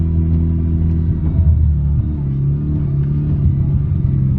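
A Mazda RX-7 cruising from inside the cabin, its rotary engine giving a steady low droning hum with slight swells in pitch as it drives along, and no backfires.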